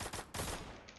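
Rapid bursts of gunfire from a shooting video game, loud and dense with several sharp volleys crowding close together over about a second, no voices.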